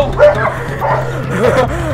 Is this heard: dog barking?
yes